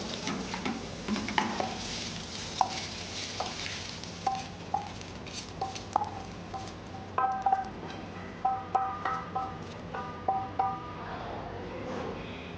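Spaghetti tossed in a pan for an egg peanut masala, with a run of light metallic clinks and taps from utensil against pan, quiet and close, over a soft background hiss with no talk.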